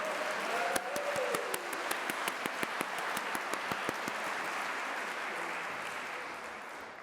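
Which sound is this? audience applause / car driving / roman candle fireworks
audience applause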